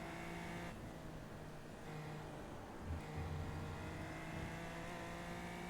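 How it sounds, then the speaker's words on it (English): Single-seater race car on the Monza circuit, its engine a steady loud drone heard from onboard with harmonic tones shifting as throttle comes back in, no voices. "Tiny bit too soon back to full throttle"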